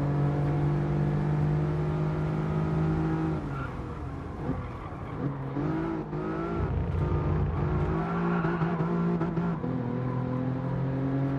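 Safety car in Gran Turismo Sport, a modestly powered road car roughly equal to an N300 class, with a steady engine drone that shifts pitch as it revs and changes gear, loud and continuous with no talk.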